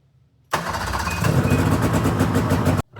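Ski-Doo Rev XP snowmobile engine with a newly replaced radiator, catching abruptly and running loud and steady at close range for about two seconds before cutting off; no talking.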